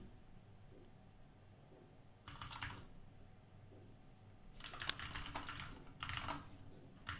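Quiet bursts of clicking keystrokes on a computer keyboard come in three short clusters, separated by stretches of near silence.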